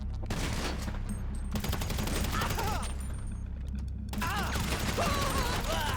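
Rapid bursts of gunfire from the video game GTA 5 during the Cayo Perico heist setup, dense volleys of close shots with a brief lull, over constant loud game background.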